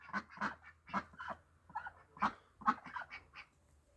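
Ducks with loud, straight-tailed voices calling in a series of repeated honking quacks, close and fairly loud, with a low steady hum beneath.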